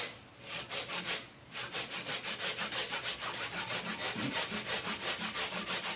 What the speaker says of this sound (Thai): เลื่อยมันตัดไม้บางมันก็จะง่ายใช่ไหมมันจะเป็นการตัดแบบนี้